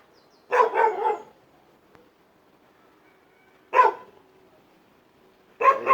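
Dog barking in a quiet outdoor setting, three separate bursts of sharp barks spaced a few seconds apart, moderately close, with near silence between them.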